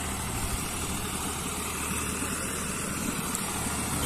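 Tractor engine running steadily while puddling a wet paddy field, a constant loud rumble with no pauses and no talk.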